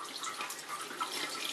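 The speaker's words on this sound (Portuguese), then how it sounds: "primeiro eu vou molhar os pincéis só com água mesmo, sem produto de limpeza" Tap water runs steadily into a sink while makeup brushes used for eyeshadow blending are rinsed under it with plain water, a continuous close splashing hiss with no talking.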